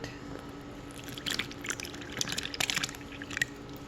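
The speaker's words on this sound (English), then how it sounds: "Pour in the milk." Milk pours in short bursts, splashing and gurgling into a bowl of flour at close range, with faint kitchen noise underneath.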